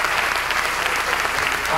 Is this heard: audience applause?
yes